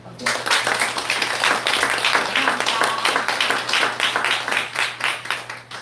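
A crowd breaks into sustained applause, dense steady clapping that keeps going for several seconds with a low hum underneath.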